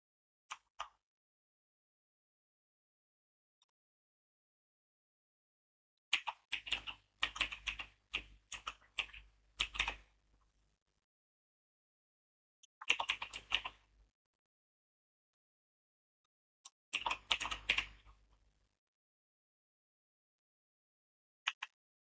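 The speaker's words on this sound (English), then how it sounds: "Press Insert key on the keyboard." A computer keyboard being typed on while working in Primavera P6 project-management software: three short bursts of quick, crisp key presses and a few isolated single clicks, close and quiet, with silence between and no talking.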